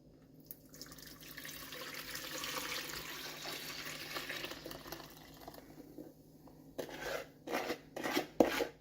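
Tap water runs into a bowl being filled for pressure-canned baked beans, a soft, steady rush lasting several seconds before it stops, followed by a few faint clinks and knocks.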